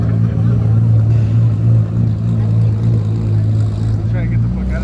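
Toyota Supra pulling away from a car meet, a loud steady low engine drone holding for several seconds with crowd chatter and voices mixed in nearby.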